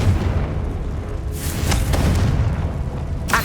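Confringo fire spells burst in Hogwarts Legacy combat as several dull booms, two close together and one near the end, over a constant dense wash of battle noise.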